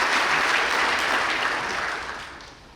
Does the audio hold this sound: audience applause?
yes